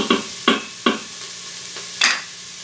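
Onions cooking in an Instant Pot while being stirred, heard as a series of sharp scraping strokes against the pot over a low sizzle, about five distinct stirs.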